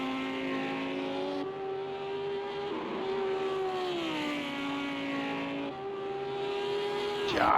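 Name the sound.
GT3 race car accelerating up through the gears, racing video game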